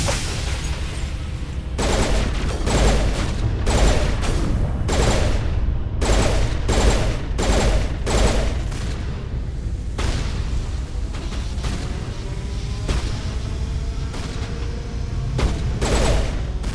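Enemy gunfire in the Mass Effect video game: rapid bursts of automatic shots and loud cracks recur throughout, with sci-fi weapon noise and a steady combat background.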